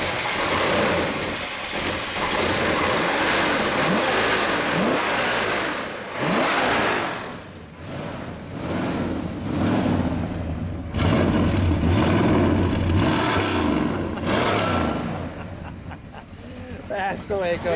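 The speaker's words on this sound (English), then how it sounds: "So people can enjoy what that Hemi sounds like." A 1970 Plymouth Road Runner Superbird with a 426 Hemi and progressive carburetor linkage, rumbling loud and close, revved in several rising bursts between idle stretches, with people talking at times.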